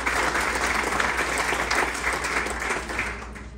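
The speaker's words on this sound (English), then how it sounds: "let's give them a round of applause as well" Audience applause at a nurses' event, a steady burst of clapping from a crowd heard close and fairly loud, easing slightly toward the end.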